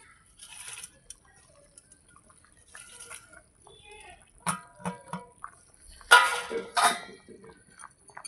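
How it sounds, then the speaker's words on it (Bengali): Fried shingi fish dropped into a simmering curry with ghee, potato and green banana, giving a few soft wet plops and splashes with faint liquid bubbling, near and moderately quiet. "এই যে শিং মাছটা ভেজে রেখেছিলাম, মাছটা দিয়ে দিচ্ছি"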